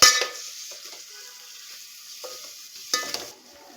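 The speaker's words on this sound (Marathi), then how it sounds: "आता आपण जी 1 वाटी मिसळ घेतलेली, मटकी घेतलेली मोड आलेली, ती टाकायची। चांगलं परतून घ्यायचं।" Sprouted moth beans (matki) being stirred and sautéed in a pan for Kolhapuri misal, with a soft steady sizzle and occasional spoon scrapes, louder at the start and near the end.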